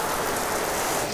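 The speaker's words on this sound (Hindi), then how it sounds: "बस पंगा बारिश ने कर रखा है और कोई पंगा नहीं है यहाँ पर" Heavy rain pours steadily during a downpour in Nicaragua, a dense, even hiss of drops drumming on surfaces, close and loud throughout with no voices.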